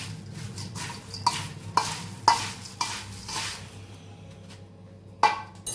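A spoon scrapes and stirs through a warm, dry, crunchy pani puri flavored sev mamra mix, with several sharp clinks against the bowl over a soft background hiss.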